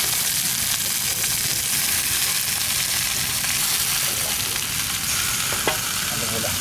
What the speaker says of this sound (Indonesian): Goreng daun singkong.